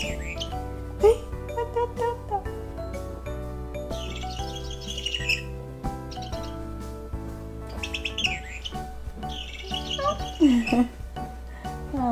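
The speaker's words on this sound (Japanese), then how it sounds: "なんかね鳥の声が鳴るおもちゃなんですよ" A toy gives off repeated electronic bird chirps and tweets in short bursts over a steady musical background, with a voice briefly in between.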